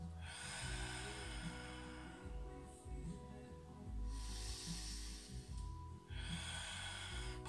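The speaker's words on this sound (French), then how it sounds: "Inspire avec ton nez." Audible nasal inhalations during a guided breathing and core exercise session, drawn in through the nose in a few long sniffing breaths with hissy airflow; fairly quiet and close, with no talk.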